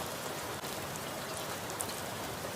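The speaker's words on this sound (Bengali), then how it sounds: "ঝড়ের সাথে যখন বৃষ্টি হচ্ছিল" Heavy storm rain falls steadily and loudly outdoors in Bangladesh, a dense continuous wash of drops with no voices over it.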